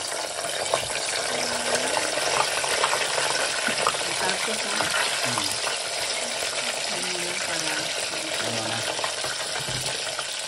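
Chicken balls fry in oil with a steady, close sizzle that carries throughout. Occasional stirring and people talking are heard over it.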